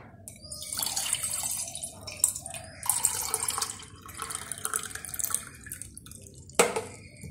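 Lukewarm water is prepared for nasal cleansing, a tap or pouring stream running into a container in close bursts with drips and splashes, ending in a sharp knock of a vessel.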